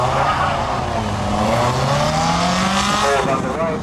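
Paul Schilling's Cobra, car number 71, climbs a hill climb course, its engine note rising steadily through the gears as a loud, close roar over dense background noise, with a voice talking.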